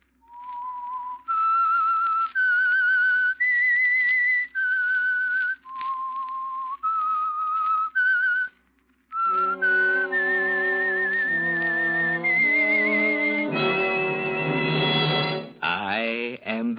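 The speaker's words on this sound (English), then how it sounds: "That whistle is your signal for the Signal Oil Program" The whistled theme of The Whistler radio program rises and falls as a lone, clear, eerie melody. Midway a full orchestra swells in beneath it and builds to a loud, dramatic sustained chord.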